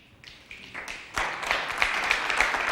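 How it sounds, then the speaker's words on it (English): A pool hall crowd at a 2005 World Pool League match responds to a shot with scattered applause and finger snapping, a light crackle that swells and stays steady, heard from a distance. "You hear the fans, some applauding, some snapping their fingers"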